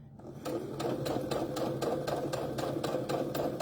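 A sewing machine with a quarter-inch foot sews a quarter-inch seam on a mug cozy, its needle thumping in an even, rapid rhythm at close range after a brief start, with no voices over it.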